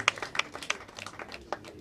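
Scattered hand claps ring out at a wedding, a loose round of applause with uneven sharp claps that thins out over a couple of seconds.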